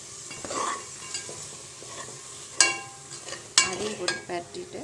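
Ginger and garlic sautéing in a pan with soaked green peas, a soft continuous sizzle under scattered stirring scrapes and two sharper clanks of a spoon against the pan; no talking.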